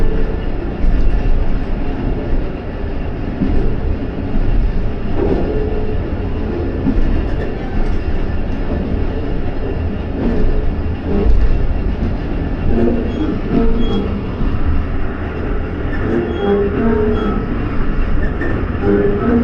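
The Rehman Baba Express passenger train rumbles along between Faisalabad and Rawalpindi, with a continuous loud low roar, wheel clatter and rattling carriages heard from on board.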